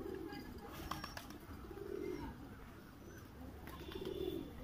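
Low, soft cooing from Madrasi pigeons, repeated a few times close by against a hushed background.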